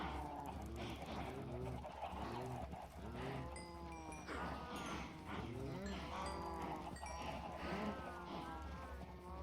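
Several Minecraft cows moo repeatedly in a small herd, with layered, overlapping low calls in a fairly steady stream over a constant background hum.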